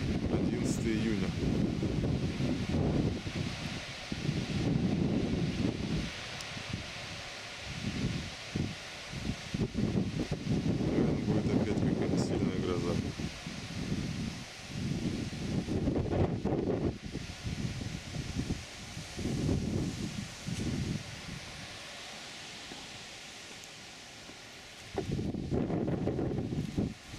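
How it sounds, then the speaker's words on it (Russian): Strong wind gusting outdoors at a gas-block house construction site in June, a broad, rushing roar that rises and falls in uneven surges throughout. "Дикий ветер."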